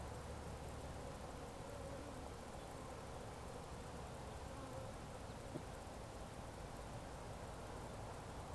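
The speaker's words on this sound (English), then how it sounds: "there's a ton of bees still" A faint, continuous hum of honey bees swarming around a brand-new hive, a steady low buzz with no voices, heard at a low level like a distant drone.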